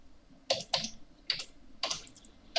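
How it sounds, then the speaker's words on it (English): Quick bursts of typing on a computer keyboard, a few close, crisp key clicks in short clusters with pauses between, quiet and alone. "Now I have to type."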